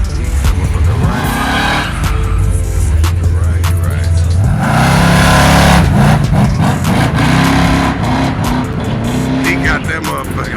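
A Chevrolet Chevelle at a car meet roars loudly nearby, the engine revving up and down in repeated surges with tire squeal, while people talk and shout over it.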